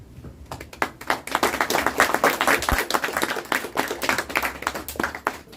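Audience at a shloka recitation and speech competition claps, starting with a few hands and swelling into a brisk, uneven round of close clapping that carries on to the end.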